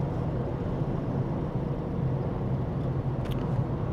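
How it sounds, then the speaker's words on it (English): A 1988 EA Falcon running a 2008 Falcon engine pulls hard from 60 to 80 under full throttle, heard from inside the cabin as a steady, loud engine roar blended with road and wind noise. "If I full hit it, if I just floor it now, so that just jumped me from 60 to 80 like very quick."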